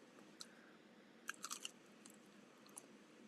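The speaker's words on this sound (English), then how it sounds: "Enjoy my sounds of chewing potato skins while you drive." Potato skins being chewed close to the mic, with soft wet crunches and a cluster of sharper bites in the middle, quiet and without talk.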